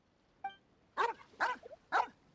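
A dog in Genshin Impact gives one short yip followed by three loud, evenly spaced barks, heard close and clear over a quiet game background with no talking.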